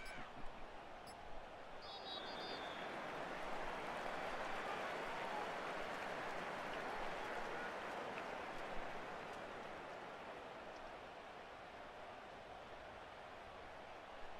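Crowd applause in a Madden football video game after a Carolina Panthers win over the Buccaneers, a broad, steady wash of clapping and stadium cheer that holds for several seconds and slowly fades.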